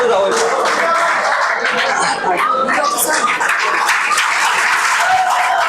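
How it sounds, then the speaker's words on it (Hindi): Students at a youth day celebration on a campus applaud loudly to welcome guests, a dense, steady wash of clapping with some chuckles and crowd murmur throughout. "तो सभी विद्यार्थियों से मेरा अनुरोध है कि खड़े होकर स्वागत करें जोरदार तालियों से।"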